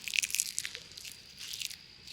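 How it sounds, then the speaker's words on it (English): A dry leaf is crushed by hand on a forest trail, giving a few close, crisp crackling crunches at the start that fade into softer rustling. "I found a crunchy leaf."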